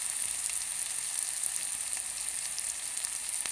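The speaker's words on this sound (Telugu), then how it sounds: "ఉల్లిపాయలు వేగాలండి, పచ్చిపచ్చిన పోవాలి" Onions fry in a pan with a soft, continuous high sizzle throughout, fairly quiet and heard alone.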